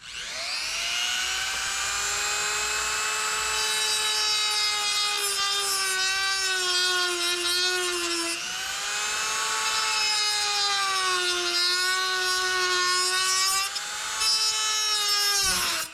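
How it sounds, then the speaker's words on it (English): A Dremel rotary tool trims plastic tabs for Jeep Commander fog lights, a loud high-pitched whine that rises and dips in pitch as it bites into the plastic, running nearly continuously with brief pauses. "I've decided to get the dreaded Dremel out, clean up these tabs here"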